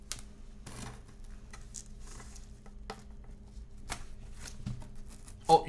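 Plastic vinyl wrap being handled on the box of a Cooler Master COSMOS C700P big-tower PC case, faint crinkly rustles and soft patters in scattered bursts, close but quiet, with no talk.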